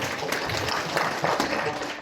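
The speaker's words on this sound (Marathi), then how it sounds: "त्यांच्यासाठी टाळी वाजवा." An audience at a Marathi kirtan breaks into a dense burst of hand clapping that fills the hall, loud and continuous for a couple of seconds, with voices mixed in under the applause.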